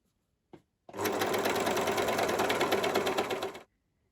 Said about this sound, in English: Now I'm going to just overlock my seam.